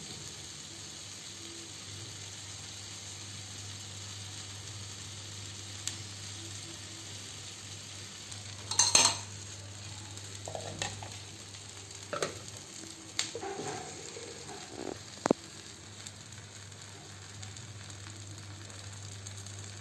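Bread pizza cooks with ghee on a hot tawa, giving a faint, steady sizzle under a low background hum, with a few soft clinks and taps near the middle and no voices.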